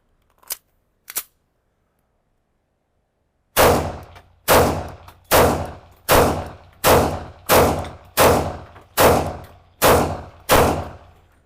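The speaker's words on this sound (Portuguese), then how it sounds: "deixe-me recarregar o carregador e disparar mais alguns tiros" Two faint clicks, a pause, then about ten sharp shots from an Arsenal Strike One pistol fired at a steady, evenly spaced pace, loud and close.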